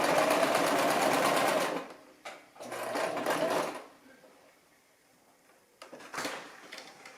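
A Brother LX-3125 sewing machine hums steadily while stitching an apron hem, running in two bursts with a pause between, then falling quiet before a short clatter of handling; close by, no voices over it.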